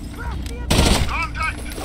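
A short burst of rapid gunfire from the video game Rainbow Six Vegas 2 cracks loudly for a fraction of a second, surrounded by faint game voices and chatter.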